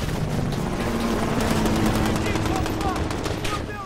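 Gunfire in the video game Call of Duty Modern Warfare, rapid bursts of automatic fire layered over a dense rumbling battle bed, loud and continuous, with voices mixed in.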